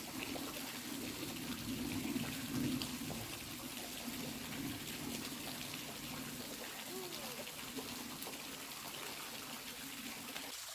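Waterfall at Hocking Hills State Park, a steady rushing, splashing roar of falling water close by, constant throughout with a low rumble underneath.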